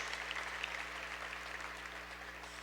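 Audience applause at a literary gala dinner, a continuous, fairly faint wash of clapping from a large crowd in a hall, steady throughout with no talk over it.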